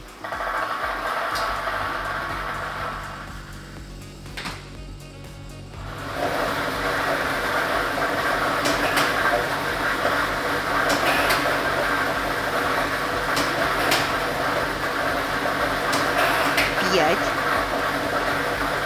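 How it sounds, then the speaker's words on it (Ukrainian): A lottery drawing machine (lototron B, ball set number 2) starts up in a televised state lottery draw, a steady mechanical whirring and rattling that swells after a few seconds and continues under a presenter's speech. "І ми вмикаємо лототрон."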